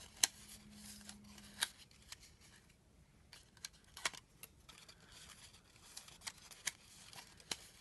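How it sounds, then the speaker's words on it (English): Paper tabs being folded along score lines for a craft mug project, soft crinkling and scattered sharp creasing taps at close range, quiet and intermittent with no speech. "fold here in the center on this score line, fold the tabs up"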